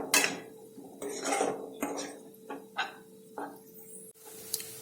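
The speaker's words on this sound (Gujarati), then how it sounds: "તો 1 મિનિટ જેવું આપણે આ મસાલાને આ રીતે સાંતળવાના છે" A spoon scrapes and clatters in a pan while spice masala is sautéed for a green corn curry, making a series of close metallic scrapes and clinks in an uneven rhythm about every half second.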